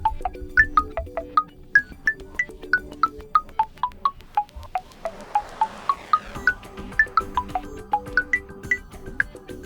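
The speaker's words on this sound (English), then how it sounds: "and here you will find keypad tones" A short melody of bright electronic keypad tones from a Huawei Enjoy 70X phone steps up and down in a quick, regular rhythm over faint background hiss.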